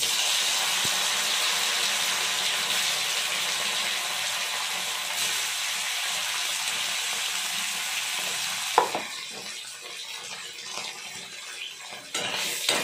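Potato pieces fry in hot oil with a loud, steady sizzle, close up. The hiss drops sharply partway through, then carries on quieter with a few small clatters. Nobody speaks.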